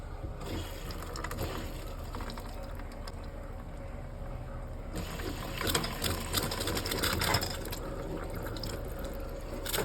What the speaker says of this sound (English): pump on.